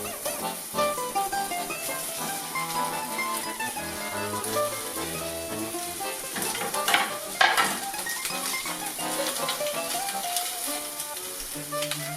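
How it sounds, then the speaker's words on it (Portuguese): Sausage slices cut not too thin fry and toast in a pan, releasing their fat with a continuous crackling sizzle, punctuated by occasional utensil scrapes and knocks, no speech. "Agora a gente vai deixando ela até ela tostar, soltar a gordurinha."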